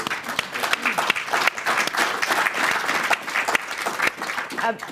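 An audience gives a warm round of applause for an expert technology panel, dense continuous clapping from a full room with scattered voices underneath.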